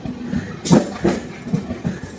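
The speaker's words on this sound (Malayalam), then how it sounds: "കന്യാകുമാരിക്ക് പോകുന്ന ട്രെയിൻ അല്ല, കായംകുളത്തിന് പോകുന്ന ട്രെയിൻ," Passenger train bound for Kayamkulam rumbling past on the rails, with a rush of noise and a few rhythmic wheel clacks at close range, no talk.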